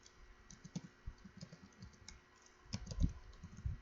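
Computer keyboard being typed on, a quiet, close run of irregular key clicks, sparse at first and then quicker and louder in a brief burst toward the end, no voices.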